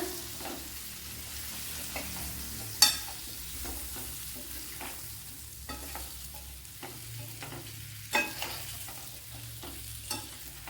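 Rambutan frying in spiced oil for a pickle, a steady soft sizzle over low bubbling, broken by the frequent scrape and clink of a spoon stirring in the pan.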